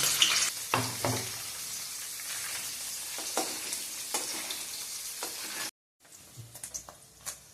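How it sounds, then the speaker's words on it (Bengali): Steady, close sizzling of paneer frying in oil over a low flame, with occasional stirring scrapes; the sizzle cuts out briefly near the end, then resumes. "এবার পনিরগুলো আমি ভেজে নিই। লো ফ্লেমে ভেজে নিতে হবে।"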